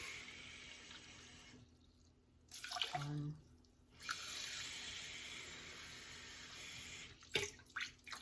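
Water poured from a tap into a cooking pot for quinoa, a steady hiss of running water that swells as the stream hits the pot, broken by brief pauses and splashes.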